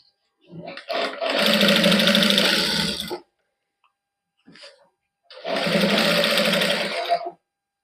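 Sewing machine stitching a cotton suit neckline without lace: two long, loud motor runs with a steady whirring hum, separated by a short pause holding a brief mechanical burst.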